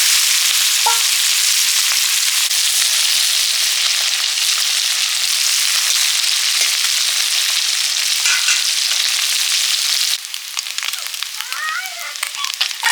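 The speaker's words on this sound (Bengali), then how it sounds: "পুঁটি মাছগুলো ভাজা হয়ে গেছে নিয়ে নিচ্ছি" Small puti fish fry in hot oil, a loud continuous crackling sizzle close by that eases near the end into sharper spitting pops.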